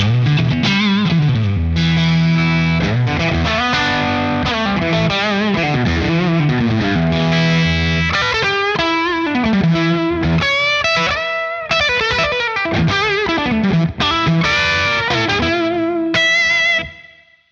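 Electric guitar through a J-Rocket El Hombre overdrive pedal plays a continuous riff with bending notes and gritty chords, loud and up front, ending abruptly.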